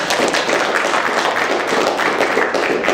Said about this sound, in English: Let's give a round of applause for our public teachers